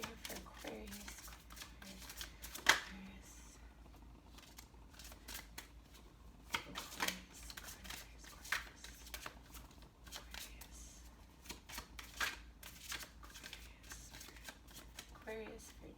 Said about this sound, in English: This is going to be our last shuffle